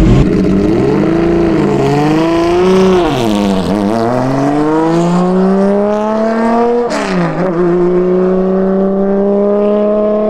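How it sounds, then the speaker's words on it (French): A BMW M1 Procar race car's six-cylinder engine revs loudly and continuously, its pitch climbing through gears, dipping briefly on shifts, then rising again, heard from inside the car. "le son de ce 6 cylindres, c'est juste magique"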